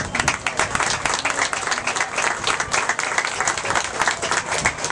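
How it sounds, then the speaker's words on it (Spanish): Crowd applause at the outdoor inauguration of a neighborhood park in Los Mina Sur, a dense, steady burst of many hands clapping at close range, loud and continuous without talk. "Vamos en estos momentos a pedir un aplauso también a la arquitecta Belkis Ramírez"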